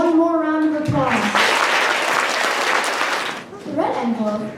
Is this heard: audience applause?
yes